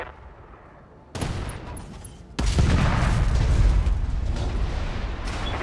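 Gunfire in the video game Helepolis, with a sharp burst of shots followed by a louder, sustained roaring barrage that fills the rest of the moment.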